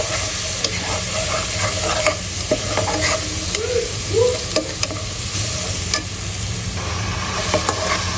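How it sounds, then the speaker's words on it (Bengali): Spice masala sautéing in a pan gives a continuous close sizzle, with frequent spatula scrapes and clinks against the metal and no talking. "মশলা কষানো শেষ"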